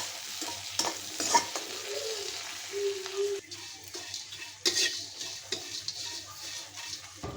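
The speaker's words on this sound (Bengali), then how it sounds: "এখানে আমি রসুন পেঁয়াজ মরিচ আমি একটু সরিষার তেল দিয়ে এটা ভাজা নিলাম।" Chopped garlic, onion and chili frying in mustard oil in a pan, with a gentle sizzle and repeated scraping stirs of a spoon against the pan, close and fairly quiet, without voices.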